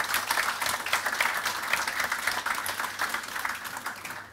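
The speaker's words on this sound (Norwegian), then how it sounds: "Vi gir han og panelet en liten applaus for kort." Applause from an audience at a panel debate event, a steady dense patter of many hands clapping throughout, moderately loud with no talk over it.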